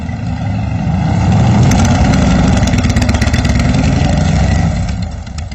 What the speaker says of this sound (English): whether it's the sound of motorcycles running